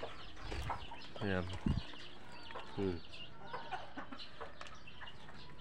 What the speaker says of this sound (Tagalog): Yung isa nangingitlog pa lang.